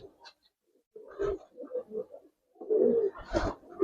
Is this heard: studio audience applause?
no